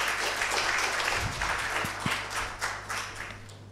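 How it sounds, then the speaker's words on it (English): An audience applauds panelists at a media festival session on women in journalism, broad clapping that holds steady, then thins toward the end with a few sharper individual claps. "Everyone, a round of applause for our panelists."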